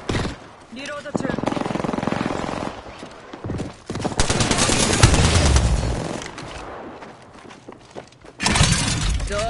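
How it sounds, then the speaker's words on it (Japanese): Bursts of game gunfire in the shooter Apex Legends, loud and dense in several volleys with breaks between them, mixed with other game effects and sound and voices in the background. "発砲中。"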